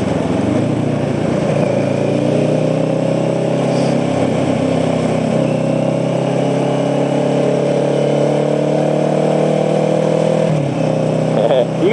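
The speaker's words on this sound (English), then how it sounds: "I am on a motorcycle and you are on a big truck" In backed-up traffic, a motorcycle engine idles steadily near a large truck, a loud, unbroken low drone that lasts throughout while someone talks over it.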